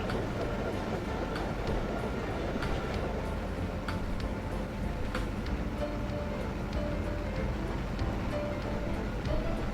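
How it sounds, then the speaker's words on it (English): A train runs in the video game Chris Sawyer's Locomotion, giving a steady, dense rumble with faint clicking and ticking throughout and no distinct horn or talk. "Oh, I thought he was a steel train coming to deliver."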